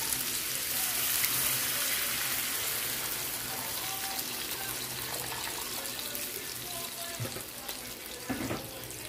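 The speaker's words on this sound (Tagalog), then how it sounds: "Mainit na tubig na gamitin natin." Hot water pours and splashes into a cooking pan of chayote, a steady soft watery rush at moderate level with a brief clatter near the end.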